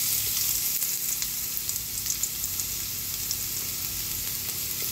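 Garlic sizzles in hot oil in a pan for a Filipino sauté, a steady close crackling fry with faint stirring ticks and no talking.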